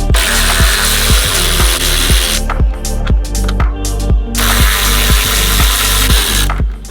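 Pneumatic impact gun hammering out 13 mm bolts at the top of an Audi RS3 strut, loud and close, in rapid rattling bursts that pause briefly midway before resuming, with a steady hiss of air throughout.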